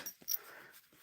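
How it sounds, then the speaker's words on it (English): A young puppy gives soft, brief whimpers and breathy sounds indoors, close and quiet, with a couple of small high squeaks near the start. "Tacker the killer puppy."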